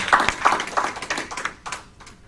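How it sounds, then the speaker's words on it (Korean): Church congregation at a Sunday service gives a short round of welcoming applause, scattered patter of hands clapping close by that fades out within a couple of seconds. "우리 환영의 박수 한번."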